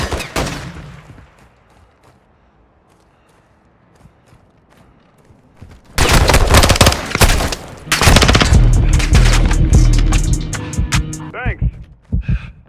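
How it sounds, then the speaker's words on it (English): Heavy gunfire in a PS5 shooter game, first a brief burst, then near-quiet, then loud sustained volleys and rapid bursts crowding the second half, with a voice speaking over part of it. "You are taking effective fire."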